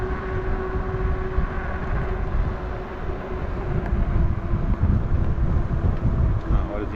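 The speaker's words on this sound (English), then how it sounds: "It's actually kind of windy." Steady wind roars and buffets against the microphone while riding an ENGWE X20 e-bike into a headwind along Azusa Canyon, a continuous low rumbling rush throughout with no talking.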